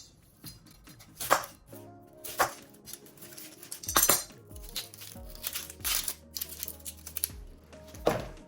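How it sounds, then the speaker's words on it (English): A kitchen knife thinly slicing onions on a board, heard as a series of sharp, irregular chopping taps close by, with some clatter and a low steady background hum. "Next up, I'm going to thinly slice some onions."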